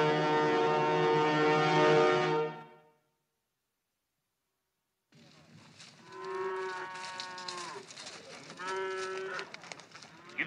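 Cattle on a long cattle drive low and moo across an open range, several drawn-out calls in sequence after a sustained tonal bellow, then a pause, with the herd's lows rising again amid background rustle.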